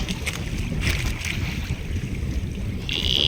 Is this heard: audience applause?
no